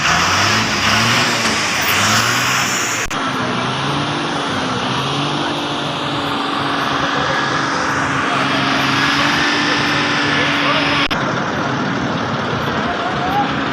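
Fast traffic on a highway near Tharda, a loud continuous roar of vehicles rushing past close by, with some swells as heavier vehicles pass and faint voices underneath.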